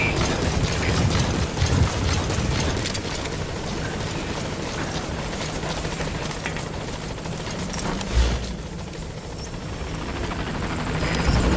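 In the Metal Gear Solid 5 video game, a helicopter approaches a landing zone. A loud, steady rotor roar fills the whole stretch, dips briefly and then swells again as the aircraft draws near.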